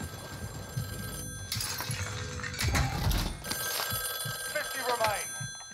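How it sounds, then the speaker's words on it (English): A telephone rings in Call of Duty Warzone (Cold War era) amid gameplay noise, its bright electronic ring repeating over a clattering, busy background with occasional thumps. "Ooh, phone."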